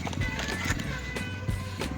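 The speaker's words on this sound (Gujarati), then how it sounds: "અહીંયા એક ઘોડો છે દોસ્તો, જોઈ શકો છો" Horse hooves clip-clopping at a horse show in Wankaner, with a handful of spaced, fairly close hoof strikes over a busy outdoor background.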